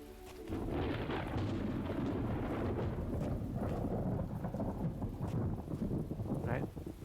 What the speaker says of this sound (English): And here comes the rain again.